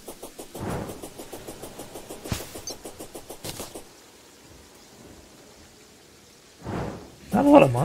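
Rain and thunder from a Terraria storm fill the game's ambience: a steady patter under a rhythmic pulsing pattern, with sharp cracks of thunder and a louder burst near the end.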